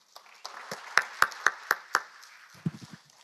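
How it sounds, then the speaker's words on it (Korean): At a college innovation forum, a small audience greets a presenter with a handful of sparse, separate claps, about five crisp hits followed by a few softer ones close together. "뜨거운 박수로 환영해 주시기 바랍니다."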